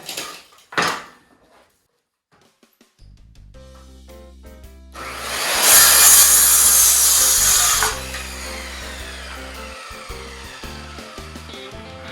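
A saw cutting through wood while a DIY snow plow for a gravel driveway is being built: a short knock, a pause, then a loud, steady buzzing cut lasting a few seconds that eases off into a quieter whirring rundown, close by with no talking.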